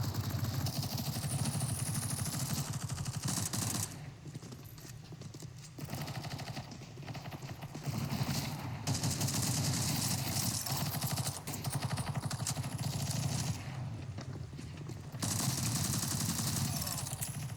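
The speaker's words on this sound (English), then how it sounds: "Who is shooting you?" Rapid rattling gunfire in a video game, sustained bursts of dense clattering shots broken by short gaps, loud and continuous across the stretch.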